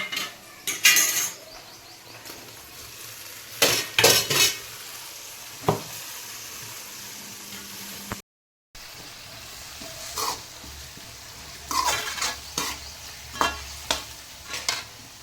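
Tomatoes go into a pan of frying onion and chilies on a cumin tempering, hissing and sizzling while a spoon scrapes and clanks against the pan in irregular close bursts, with one brief dropout midway.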